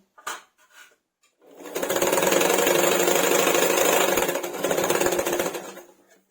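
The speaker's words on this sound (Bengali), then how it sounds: "এইভাবে পুরোটা সেলাই করে নিচ্ছি" A sewing machine stitches a bolster pillow cover made from old fabric, running in one loud, steady burst of rapid stitching for about four seconds after a few brief handling knocks.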